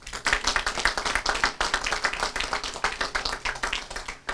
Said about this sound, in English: please, a big round of applause for our East Brunswick Girl Scouts and Boy Scouts Troop 501